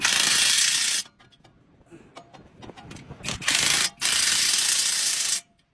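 A socket ratchet tightens bolts on a 2016 Toyota Corolla during front wheel bearing work, heard as three close, loud bursts of rapid clicking separated by quieter gaps with faint handling noises.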